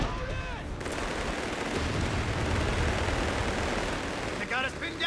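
Rifle grenade blast in Company of Heroes 3, a loud rumbling explosion that swells and rolls for several seconds amid wartime battle noise, with brief radio-like voices before and after.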